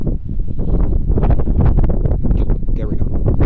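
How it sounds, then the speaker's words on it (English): Strong wind buffets the microphone in a steady, loud low roar, with gusts surging throughout and a voice faintly mixed in. "it's getting really windy"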